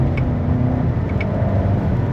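A Mercedes GLA with a dual-clutch gearbox drives on an icy road, giving a steady, fairly loud engine and road drone with a little whir and no talking.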